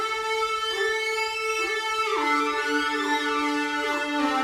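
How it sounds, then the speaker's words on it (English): A buzzy, harmonically rich synthesizer lead plays a gliding melodic line with pitch bends, loud and upfront with no talking. "I add this crazy lead along the sample."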